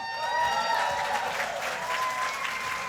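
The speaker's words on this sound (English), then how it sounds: "get a big round of applause for McDonald's Chief Happiness Officer, Ronald McDonald!" Audience applauding at a charity gala for Ronald McDonald House Charities, sustained dense clapping from a large crowd with a bright tone under it, steady and loud throughout.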